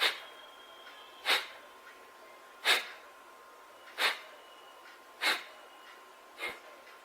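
Kapalbhati pranayama breathing: six sharp, forceful exhalations puffed close to the mic at an even, unhurried pace about one and a third seconds apart, each a short hissing burst over a quiet background.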